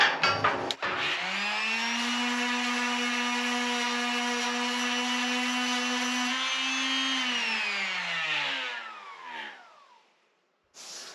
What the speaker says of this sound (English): Let's see if I can sand them out.